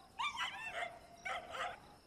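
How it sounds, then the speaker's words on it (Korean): A dog barking and yipping in two close, loud bursts of quick high-pitched barks, heard alone. "강아지랑 대화가 되십니까?"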